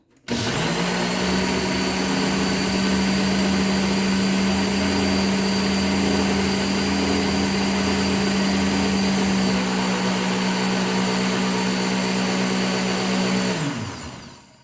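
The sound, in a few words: blender running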